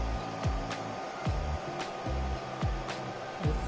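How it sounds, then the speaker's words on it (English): 3D printer running after a filament change, a soft whir under repeated stepper-motor sweeps that rise and fall in pitch every half second or so, close and fairly quiet. "Now it is printing out."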